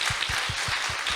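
Congregation applause during a Sunday church service, a short burst of many hands clapping with a rhythmic low thump running under the steady crackle.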